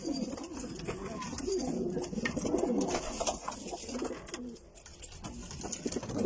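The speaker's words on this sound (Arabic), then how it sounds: "هذول هن الحمامات يا خيي" Pigeons coo steadily in a rooftop loft, soft repeated throaty calls layered over one another, with flapping and shuffling and a little quiet background noise.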